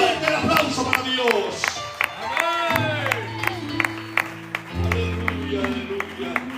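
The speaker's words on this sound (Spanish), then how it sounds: "Fuerte el aplauso para Dios." A church congregation claps and cheers together while an organ or keyboard plays sustained chords beneath, with crowd voices and sharp clap bursts standing out through the mix.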